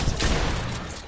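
Gunfire bursting out in a multiplayer shooter game as a headshot lands, a loud, dense crack that fills the whole second with sustained noisy energy.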